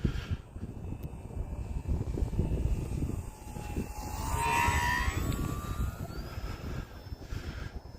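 An E-flite T-28 radio-controlled model airplane flies on a windy day, its electric motor whine rising and falling as it passes, swelling louder mid-way over steady wind rumble.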